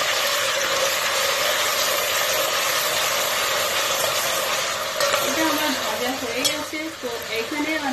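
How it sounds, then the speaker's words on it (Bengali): Ginger and garlic paste fries in a pan for Bengali polao, a steady broadband sizzle running throughout, joined near the end by a few scraping stirs and a faint tonal whine. "আদা বাটা, রসুন বাটা দিচ্ছি 1 টেবিল চামচ পরিমাণ, আদা বাটা দিচ্ছি 1 টেবিল চামচ পরিমাণ। এবার এটাকে একটু ভেজে নিচ্ছি।"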